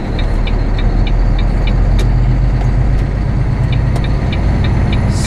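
Heavy truck engine rumbling steadily up close as the rig rolls slowly into a parking lot, with faint periodic ticking clicks over the low drone.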